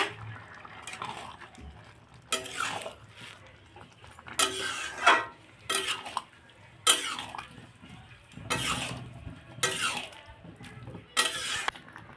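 Mochar ghonto, a banana flower curry with sugar just added, gets stirred in a pot with bursts of scraping and wet mashing at irregular intervals, close and moderately loud between quiet pauses.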